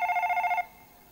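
A telephone rings nearby, a rapid trilling electronic ring that pulses steadily for about half a second before cutting off to a quiet room.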